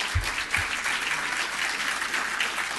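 Audience clapping fills a church hall at an evening talk, a steady, dense wash of applause sustained throughout with a couple of low thumps near the start.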